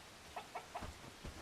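Rooster in the medieval survival game Bellwright giving a few short, quiet clucks in a loose rhythm, fairly soft against a low background hum with no talking.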